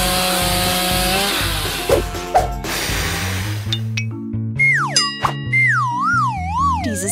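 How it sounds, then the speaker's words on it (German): Chainsaw cutting a burger into pieces, a loud buzzing saw engine with thumps, then cartoonish boing and wobbling whistle effects over a steady musical backing. "Genau, eine Kettensäge."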